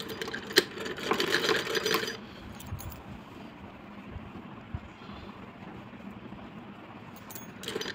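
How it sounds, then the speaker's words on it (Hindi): A sewing machine stitches the side seam of a kurta in a fast whirring burst for about two seconds, then quieter handling and faint mechanical rattles follow up close, with no talking. "और हम अपनी मशीन को यहाँ सेट करेंगे, देखिए इस तरह। और यहाँ से हम सिलाई करते हुए अंदर को आएंगे"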